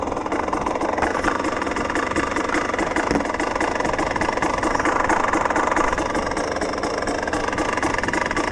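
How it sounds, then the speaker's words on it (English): A motorcycle engine idles steadily nearby after laps on a field, a constant loud mechanical drone with a slight knocking texture throughout. "Bike's been idling for a little while."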